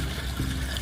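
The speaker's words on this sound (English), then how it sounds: "First thing you want to do, you want to add a bit of water." Water is poured into a parging mortar mix on a brick repair job, giving a short, close, splashy pour with a continuous liquid rush and no talking.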